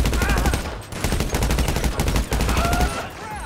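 Rapid gunfire from a fight in the video game GTA 5, shown with a real-life mod: dense, continuous bursts of automatic shots, loud and close, running through the whole stretch with only brief gaps.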